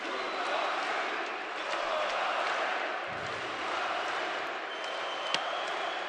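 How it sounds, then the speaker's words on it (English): An arena crowd at an MMA bout between Deyan Galinov and Sowe roars and shouts in a sustained, distant wash of noise, with a brief thud near the end. "Crowd shouting now for Galinov, exhorting him to do just a little bit more"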